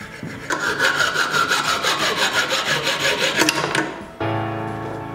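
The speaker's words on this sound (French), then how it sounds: "avec une scie à métal, on va venir couper l'excédent de la vis de métal" A hacksaw cuts off the excess length of a metal screw while a toilet is being installed, sounding as about four seconds of steady, rhythmic rasping strokes up close that stop abruptly, followed by a low hum.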